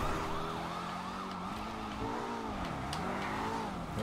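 Police sirens wail and whoop in the video game GTA V, several overlapping sweeping tones over steady car engine and traffic noise, continuous and moderately loud.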